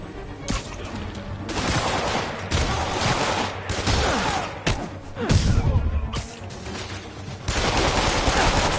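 Bursts of enemy gunfire crackle through a Spider-Man PS4 combat scene, rapid volleys with thuds and crashes coming and going over nearly nine seconds, loud and close.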